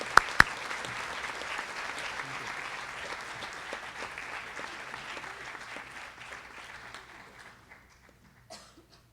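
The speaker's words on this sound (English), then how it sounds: "And we applaud." Audience applause at a high school senior awards ceremony, a steady dense clapping wash with a couple of sharp claps at the start, sustained and then fading away near the end.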